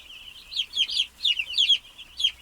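Broiler chicks cheeping in a warm, draft-free pen, a run of high, clustered peeps in quick irregular bursts, fairly close and clear, with no talk.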